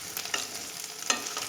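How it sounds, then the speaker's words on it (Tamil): Brinjal is lightly sautéed in oil in a kadai for a brinjal gravy. Two distinct scraping stirs cut through a soft, steady sizzle, close and with no voices. "அதனால் கொஞ்சம் லேசாக வதக்கிட்டேன்."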